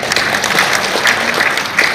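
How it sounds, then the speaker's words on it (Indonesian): An audience at a regional government technical workshop claps in a dense, continuous burst of applause for two seconds, loud and close. "Tepuk tangan buat Pak Adelino dong,"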